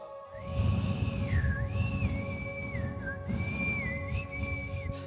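Someone whistles a wandering melody, clear and close, over a low background rumble, with a short pause midway.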